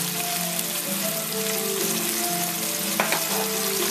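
Pureed tomatoes hit a hot pan at low-medium heat and fizz with a steady, close sizzle, with a brief clatter of stirring near the end.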